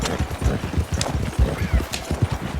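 Horse hooves gallop hard in Red Dead Redemption 2 during a winter endurance race, a fast steady clip-clop of heavy thuds close up over faint wind and ambient noise.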